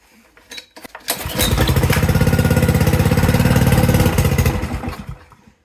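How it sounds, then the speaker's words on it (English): A small engine on an edger pulled from a scrap pile sputters to life and then runs steadily and loudly with a fast, even firing rhythm, close by, before dying down at the end. "it is unbelievable how this engine runs"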